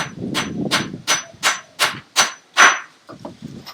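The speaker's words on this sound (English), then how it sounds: "hammer a nail in without bending it over" A hammer strikes a nail in a steady series of sharp, ringing blows, about seven hits, followed by a few quicker lighter taps.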